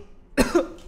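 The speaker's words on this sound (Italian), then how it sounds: "Come puoi vedere, tossisco brutto." A person in an Italian horror game playthrough gives a couple of harsh, close coughs in quick succession after a moment of quiet.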